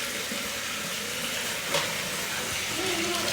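Chicken frying and macaroni boiling side by side in a home kitchen, a steady hissing sizzle filling the space with faint bubbling underneath, constant and moderately quiet.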